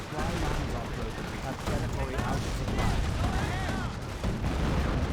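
A demolition charge explodes during a Company of Heroes battle against Panzer Grenadiers, buried in a dense, continuous wall of gunfire and artillery-like rumble that holds loud for the whole stretch.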